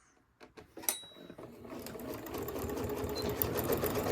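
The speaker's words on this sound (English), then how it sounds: "let's go sew this" A sewing machine stitches a quilt block seam for a rail fence block, its steady needle rattle starting after a few handling clicks and running continuously and close by.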